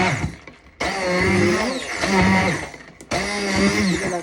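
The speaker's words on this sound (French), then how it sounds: "Là, je prends le mixeur et j'allume." An electric blender purees apple and pear compote with a loud, steady motor whir that cuts out briefly twice and restarts.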